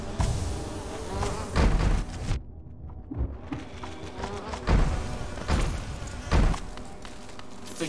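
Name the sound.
angered big bee buzzing, from a video game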